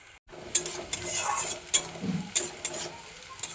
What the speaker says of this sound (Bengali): পেঁয়াজ লাল করে ভাজা হয়ে গেছে